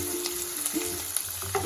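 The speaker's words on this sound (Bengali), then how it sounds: "পেঁয়াজগুলি আমি ভালো করে ভেজে নেব" Chopped onions fry in hot oil with whole spices for potol chingri, giving a close, continuous crackling sizzle with a few soft stirring knocks across a brief stretch, no voices.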